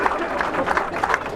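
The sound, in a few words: round of applause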